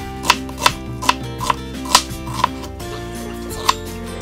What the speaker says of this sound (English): let's go ahead and cut this into some longer strips as well